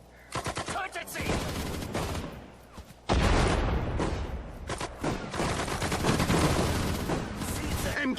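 Dense bursts of rifle and machine-gun fire in the World War II strategy game Sudden Strike 4, Battle of the Bulge, rattling in rapid volleys that swell louder midway, mixed with voiced unit commands.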